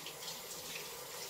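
Water runs steadily from a tap as hands are rinsed under it, a soft continuous hiss and splash with no talk.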